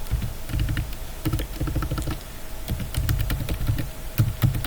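Close, crisp clicking of a computer keyboard as someone types a search query, irregular bursts of keystrokes with brief gaps and no talk.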